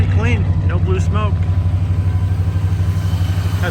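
The 440 V8 of a 1976 Dodge Coronet ex-California Highway Patrol car runs at a strong, steady idle with a pulsing low rumble close by, while someone talks briefly over it at the start.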